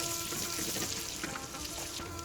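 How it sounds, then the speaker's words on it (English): Three tablespoons of butter melting in a pan on the stove, a steady close bubbling sizzle with no voices. "to melt these 3 tablespoons of butter"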